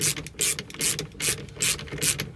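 A ratchet wrench tightens the mounting of an aftermarket steering wheel on an EM2 car, making close, loud bursts of rapid clicking that repeat in a steady back-and-forth rhythm with no talk.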